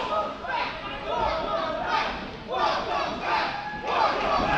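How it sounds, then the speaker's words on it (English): An arena crowd at an IWC pro wrestling event roars and chants in rising waves as a wrestler returns to the ring, loud and sustained, with a commentator's voice mixed in. "this crowd welcoming DeMarco back inside of the IWC ring"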